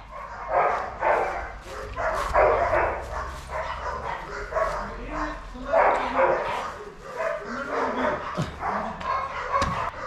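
A pet dog barks and yips repeatedly at close range, with whimpers between bursts and a voice speaking over the barking.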